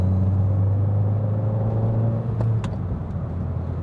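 Turbocharged Abarth 500 hatchback with a big turbo kit pulling away on a road test, a loud steady engine drone that eases off partway through, with a couple of short clicks near the end.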